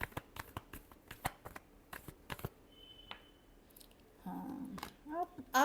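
Tarot cards riffle-shuffled in quick papery bursts, sharp clicks and flutters repeating close up, with a longer soft rustling shuffle near the end.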